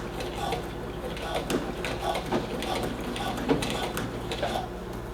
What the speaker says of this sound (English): I'm going to do a back stitch